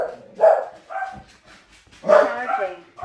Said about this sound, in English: Great timing with the dogs barking.